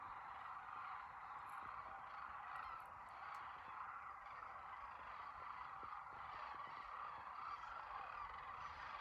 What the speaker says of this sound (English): That's the sound of those birds or geese or duck flying from the left to the right.